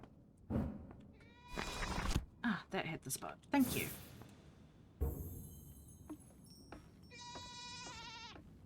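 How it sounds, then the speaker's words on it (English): A few video game goat bleats ring out in the latter half, wavering and tonal, after a person speaks briefly and exhales. "I hear a goat."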